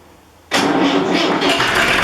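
An old McCormick tractor engine catches abruptly after a quiet moment and settles into a loud, close, rough-running idle.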